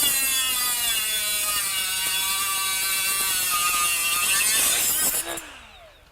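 A Milwaukee M12 FUEL quarter-inch straight die grinder cuts eighth-inch aluminum with a loud, steady high-pitched whine for about five seconds, then the motor spins down and fades, no talk.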